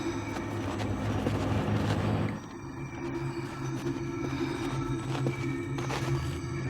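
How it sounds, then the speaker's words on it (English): A video game alien generator: a low, droning electronic hum with faint pulsing tones and a shift midway to a thinner, quieter drone; no voices. "And we can hear an alien generator sound."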